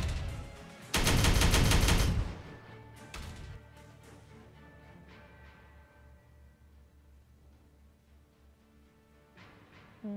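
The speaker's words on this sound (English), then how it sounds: "Devastating fire." Gunfire in the video game Warhammer 40K Regicide: a loud sustained burst of rapid automatic fire, followed by a few shorter shots and impacts that trail off into a low ambient hum.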